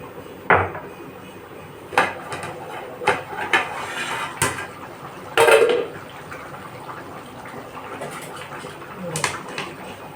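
Metal clanks from a chicken biryani pot on the stove as its lid and weight are lifted and handled, a scattered series of sharp knocks and scrapes, one louder clatter near the middle, with faint talk.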